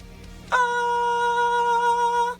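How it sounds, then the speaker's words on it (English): A single sustained head-voice note sung cleanly and held steadily for about two seconds, bright and clear with strong harmonics and no words, demonstrating singing in head voice as a base for a fry scream. "Singing with your head voice will sound something like this."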